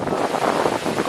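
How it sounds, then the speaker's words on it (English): Wind buffets the microphone outdoors at Miyanoshita in Hakone, a steady broadband roar that swells and eases slightly through the moment, loud and close, with no talking. "it's a little windy"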